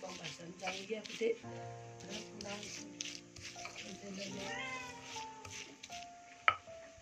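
A cat meows repeatedly in a drawn-out, wavering way, close and clear, alongside background voices and children's chatter.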